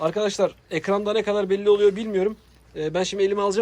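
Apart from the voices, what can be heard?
No everyday noises stand out.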